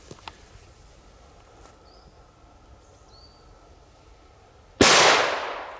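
A Dragon firecracker made by Kometa goes off in a single loud, sharp bang after a quiet stretch of faint outdoor background. It is set off casually outdoors, and the blast decays into a long, bright noise tail.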